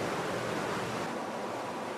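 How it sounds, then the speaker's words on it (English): Boat wake and waves wash steadily against the water with a broad, continuous roar, loud and close, with no talking. "I can kick up a big wake."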